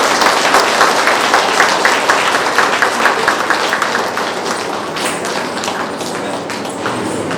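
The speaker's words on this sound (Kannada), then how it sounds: "ಸೊ ಈ ಒಂದು ಮುಗ್ಧ ಮಗುಗೆ ಜೋರಾದ ಚಪ್ಪಾಳೆ." An audience applauds a child's dance performance at an anniversary program in Ballari, with dense, loud, continuous clapping that fades slightly toward the end.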